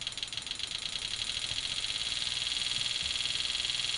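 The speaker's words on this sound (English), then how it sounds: "if you listen to the sound, you can hear the injector speed up" An engine fuel injector ticks in a rapid mechanical rhythm that quickens, simulating highway speed around 60 mph, with a faint steady hum beneath the close, even clicking.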